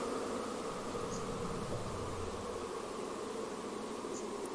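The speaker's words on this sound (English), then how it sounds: "so this is the noise from the Damian Lillard filter" Pink noise from a filter in a VCV Rack software synthesizer: a steady, broadband hiss with a faint buzzing quality, continuous and even in level throughout, with no talking.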